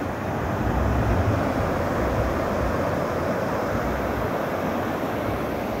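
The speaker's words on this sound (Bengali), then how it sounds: "দেখো এইদিকে জলের স্রোত, কি প্রচণ্ড জলের স্রোত গাইস" A strong river current near Dudhiya bridge roars steadily and loudly, a dense continuous rush of water with wind buffeting the microphone and no speech.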